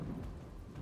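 Heavy rain pouring down during flooding in Valsad, a dense, continuous roar with deep rumbling underneath, loud and steady with no voices.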